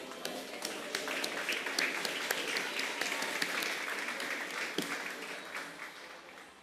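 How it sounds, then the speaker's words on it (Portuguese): A church congregation applauds during a Portuguese-language service, a broad continuous clapping from many people at moderate distance that fades slightly toward the end, with no talk over it. "Você pode aplaudir o Senhor?"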